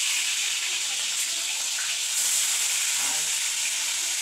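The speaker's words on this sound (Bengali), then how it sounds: "মাছ ভাজা হচ্ছে, শিবা মাছ নিয়ে চলে এসছে।" Fish frying in a pan gives a steady, dense sizzle that stays loud and even from start to finish, with no voices over it.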